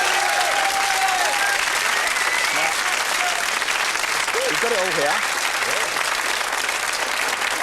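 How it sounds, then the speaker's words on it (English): Studio audience applauds at a television variety show, a dense, steady wash of clapping that fills the whole stretch, with a host's voice talking over it. "Applause for that."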